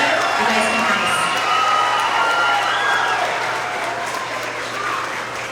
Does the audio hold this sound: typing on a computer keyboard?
no